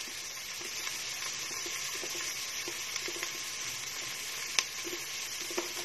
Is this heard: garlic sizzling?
yes